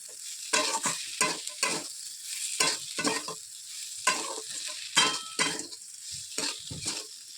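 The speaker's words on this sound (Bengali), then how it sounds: "এই গুগলিগুলো দিয়ে দিয়েছি ভালো করে একটু নেড়ে করে সরষে বাটাটা দিয়ে দেবো" Freshwater snails sizzle in a pan with turmeric and ground cumin while being stirred, giving repeated close scraping strokes over a steady frying hiss, with no talking.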